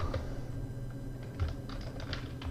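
Quiet typing on a computer keyboard while writing a script, with scattered light key clicks in small irregular clusters over a low background hum.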